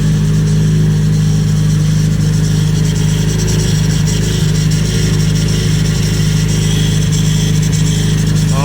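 A Nissan KA24DET engine idles steadily while warming up, a loud, close and continuous drone with a constant low hum and no talking.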